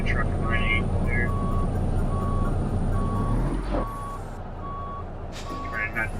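A semi truck reversing in American Truck Simulator, steady evenly spaced backup beeps over a low diesel rumble, with a sharp air brake hiss partway through.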